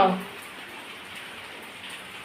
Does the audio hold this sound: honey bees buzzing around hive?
no